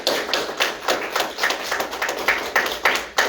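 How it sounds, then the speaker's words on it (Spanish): A church congregation claps in a regular, fairly brisk rhythm, each clap standing out distinctly, nearby and moderately loud for just over three seconds. "vamos a darle un fuerte aplauso a la hermana"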